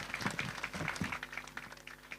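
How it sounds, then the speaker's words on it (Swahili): Parents at a school annual general meeting clap for the school chair, scattered hand claps at a modest level echoing in a hall, loose and uneven rather than a full roar. "The Chair deserves a better clap from us."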